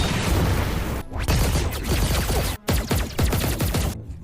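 Rapid gunfire from villagers practising their shooting, a dense, loud string of overlapping shots and bursts that breaks off briefly twice before resuming.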